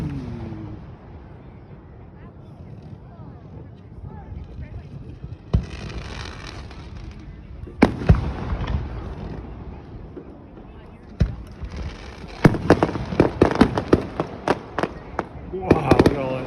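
Fourth of July fireworks over Gouverneur, New York: scattered booms build into a crackling flurry of rapid pops, with wind buffeting the microphone and people talking quietly.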